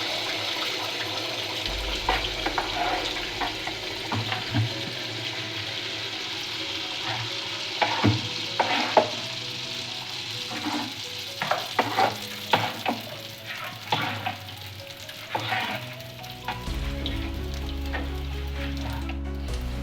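Semolina and jaggery pitha fry in hot oil with a continuous close sizzle, broken by scraping stirs and clinks of a utensil against the pan.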